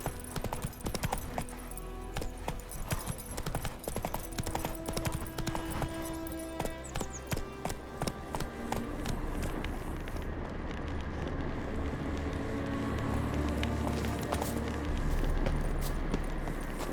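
A horse gallops in The Witcher 3, its hooves pounding in a fast, steady clip-clop that carries on without a break, loud and close, with a brief shift in the ground noise toward the end.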